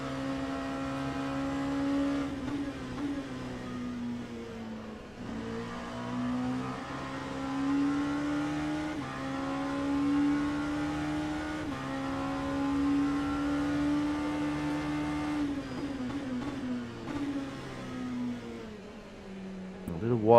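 LMP2 prototype race cars lapping Mosport in a racing video game, a steady engine drone with shifting pitch as cars pass, continuous and moderately loud throughout.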